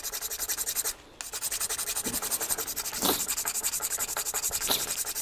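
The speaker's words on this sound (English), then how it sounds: "just get a paddle stick or a tongue depressor and glue sandpaper to it." Fine sandpaper glued to a paddle stick rubs back and forth against a handmade garfish swim-bait lure's bib in a steady, close rhythm of scratchy strokes, with one brief pause near the start.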